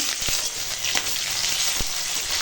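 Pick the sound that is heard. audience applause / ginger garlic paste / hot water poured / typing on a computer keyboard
ginger garlic paste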